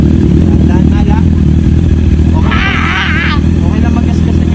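A motorcycle engine runs with a low, steady drone, close by and loud, during a riding lesson, as a person talks over it.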